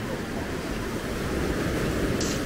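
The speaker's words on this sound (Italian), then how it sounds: "il problema sono le onde, effettivamente sono poche" Sea surf at a Tuscan beach on a summer day, a steady broadband wash of small waves close by, fairly loud and continuous, mixed with some wind rumble on the microphone, and no talking.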